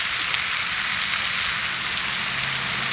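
Turkey and beef kielbasa sausage with onions frying on a wood gas stove, a steady bright sizzle with crackling pops, close and continuous, no talking.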